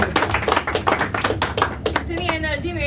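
An audience at a poetry performance claps in a short burst of scattered, uneven applause, which fades after about two seconds as a voice starts speaking.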